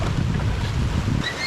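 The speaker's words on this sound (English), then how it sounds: "Oh, the rapids." River rapids and small waterfalls in the Philippines rush in a steady, loud roar of churning water with wind buffeting the microphone, heard close with no talking.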